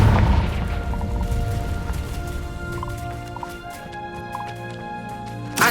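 A Confringo spell explosion in Hogwarts Legacy, a heavy low boom at the start that decays into rumbling debris, with tonal magical chimes and clinks ringing through the tail and a fresh thump at the very end.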